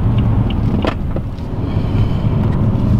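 A BMW 335d F30 diesel saloon drives along in sport mode, its cabin filled with steady road and engine roar, a few light clicks and rattles scattered through; no talking.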